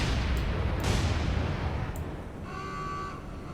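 Japanese naval guns fire in the War on the Sea game as dull, heavy booms over a constant low roar, with several sharp reports spaced apart and a whistling tone near the end.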